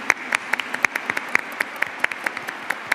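Scattered applause from a small audience at a school event, individual claps ringing out in a quick, uneven rhythm, close and fairly loud with no talk.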